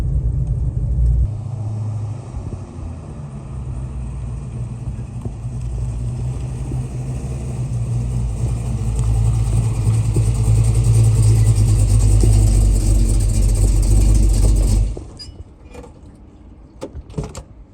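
A Torana car engine revs hard and loud for a long stretch, a deep throbbing roar that cuts off abruptly, followed by quieter idling and small clicks.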